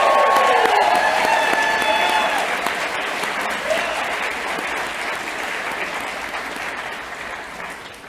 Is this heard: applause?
yes